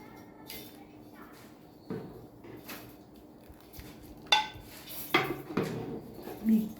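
Soup bowls and cutlery clink as red pea soup is served from a big pot in a home kitchen, with scattered clatters of dishes and utensils coming in short bursts and a voice speaking quietly underneath.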